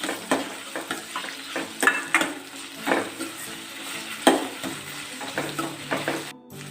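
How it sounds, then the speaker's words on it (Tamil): Chopped tomato fries in hot oil in a pan for a Tamil-style chicken gravy, giving a steady sizzle broken by frequent scraping and clinking stirs of a utensil against the pan. Nobody talks. "எண்ணெயில் தக்காளி நல்லா வணங்கணுங்க."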